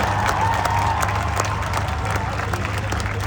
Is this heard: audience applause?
yes